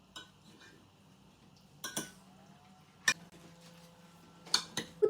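Utensils clink against a dish while a warm eggplant and tomato salad is mixed, with a handful of sharp, separate knocks and scrapes over near silence.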